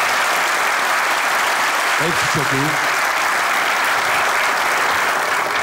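A theatre audience applauds a comedy sketch, dense loud clapping running the whole time while someone speaks briefly over it partway through.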